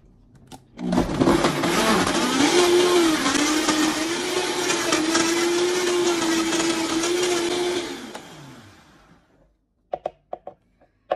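A kitchen blender whirs loudly for about seven seconds, blending lime with powder and a cup of water for a drink, then spins down, followed by a few faint clicks and knocks.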